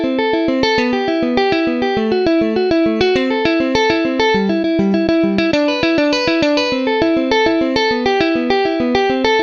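Sampled Steinberger electric guitar from a virtual instrument, fourth pickup position, picked in a steady, fast arpeggio of short, stiff notes, washed in chorus and reverb, loud and continuous with no voices.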